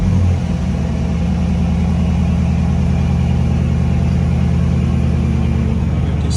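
A Dodge Hellcat widebody car engine runs right after start-up, a loud, close, steady deep rumble with a throbbing low idle that continues unbroken throughout, no talking.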